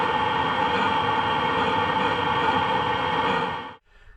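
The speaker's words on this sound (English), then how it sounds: "just turn the heater on." A steady, loud blowing hum from a Ford Transit camper van's heater fan runs evenly, then cuts off abruptly near the end, leaving near silence.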